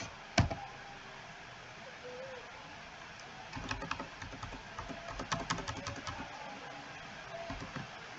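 Typing on a computer keyboard, with fast, light key clicks in an irregular rhythm, faint and close over a steady background hiss.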